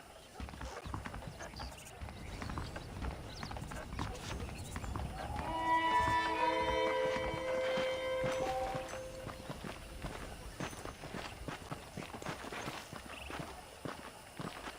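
Horse hooves clip-clop on the ground in the Red Dead Redemption game near saddled horses, a steady walking rhythm with a brief whinny and swelling music midway.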